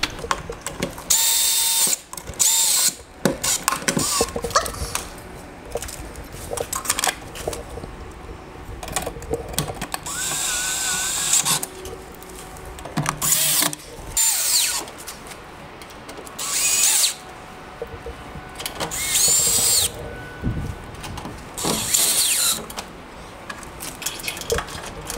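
Screws being driven while installing a new rim cylinder lock on a push bar exit door, with repeated short bursts of a power driver whirring between pauses and small clicks of handling, fairly close and with no talking.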